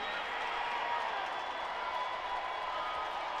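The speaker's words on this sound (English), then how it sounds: "Crowd roars to their feet before the 50-yard try." Football stadium crowd roaring as a 50-yard field goal try lines up, a steady broad wash of cheering and noise filling the whole clip without pauses.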